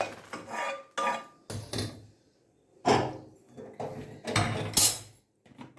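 Metal pots and vessels clank and scrape in a home kitchen as a sambar pot is lifted off the stove and its contents moved into another vessel, in several separate bursts of clatter with brief quiet gaps.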